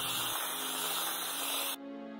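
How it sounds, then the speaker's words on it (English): An aerosol can of expanding foam hisses continuously and loudly while spraying into a pumpkin, then abruptly stops, leaving a faint low hum. "just spraying this crap into this pumpkin"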